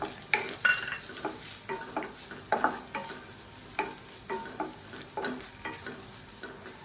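Grated coconut is stirred and roasted in a pan, with a faint dry sizzle under repeated scraping spatula strokes at an irregular rhythm, close and quiet, with no talking.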